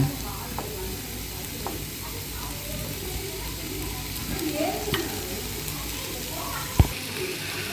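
Mint and coriander leaves are stirred into vegetable biryani in a pan, with soft scraping and stirring over a low, steady sizzle and occasional sharper clinks, while a person talks quietly.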